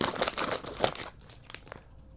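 A bag of Nissin black pepper crab chips is cut and pulled open, giving close, busy crinkling and crumpling of the packet that is loudest early on, then settles into softer, scattered rustles.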